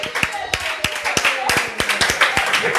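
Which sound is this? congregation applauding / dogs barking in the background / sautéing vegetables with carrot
congregation applauding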